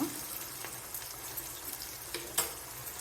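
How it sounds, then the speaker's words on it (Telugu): Tomato frying in oil for a keema curry, a low steady hiss of sizzling with a few small pops and a faint clatter near the end, close by and with no talk. "ఒక టమాటా వేసాను టమాటా కూడా ఆయిల్లో మగ్గాలండి బాగా"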